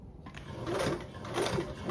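A sewing machine stitches down fabric panels, a rapid mechanical whirring run that starts after a brief pause and continues steadily at close range.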